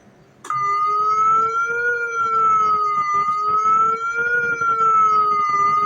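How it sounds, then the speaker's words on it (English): A loud, steady nuclear attack warning siren starts abruptly and holds a sustained, slightly wavering tone with strong harmonics, sounding continuously without any voices. "it's the one to alert you about a nuclear attack."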